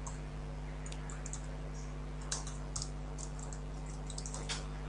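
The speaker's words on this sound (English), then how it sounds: "And I'm just going to type it up." Someone types on a computer keyboard: faint, scattered key clicks over a steady electrical hum, with no talking.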